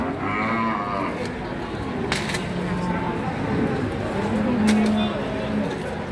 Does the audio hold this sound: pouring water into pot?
no